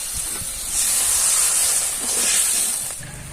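Water poured into a pan of hot, oil-separated fried spice paste for a Bengali fish curry, giving a sustained loud hiss of steam and sizzle that swells, holds, then eases off toward the end.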